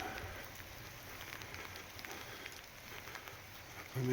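Steady rain falls on surfaces outdoors near red brick buildings in Nemours, a dense continuous patter with a low rumble, no voices.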